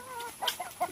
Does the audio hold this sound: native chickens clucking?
yes